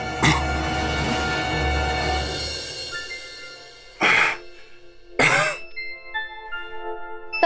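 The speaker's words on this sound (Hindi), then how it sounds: "मेरे से खांसी हो रही है।" A person coughs and clears their throat repeatedly: a long rough hacking bout, then two sharp separate coughs a second apart, close and loud indoors.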